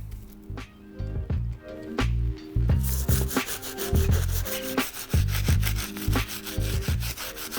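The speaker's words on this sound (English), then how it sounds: "Last brush we're going to be using is our stiff to take care of these soles." A stiff-bristled brush scrubs the soles of Nike Air Max 1 sneakers during a restoration cleaning, giving steady close rasping strokes that repeat in quick bursts with no talk.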